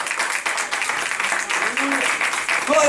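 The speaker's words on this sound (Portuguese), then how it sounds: "Dá uma salva de palmas ao Senhor." Congregation applauding during a Portuguese-language church service, a steady, dense patter of clapping filling the room with a voice faintly heard over it.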